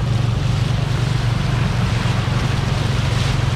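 Fast, deep floodwater on Jalan Trans Kalimantan in Handil Bakti, South Kalimantan, surging and sloshing in a steady dense roar, with waves pushed up by passing cars and a low motor hum underneath, close and loud, with no voices.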